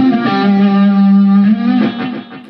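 An electric guitar runs a fast pentatonic sweep in a three-one-three note pattern, with effects, distortion and reverb giving a bright, continuous flurry of notes that fades out at the end, with no voices.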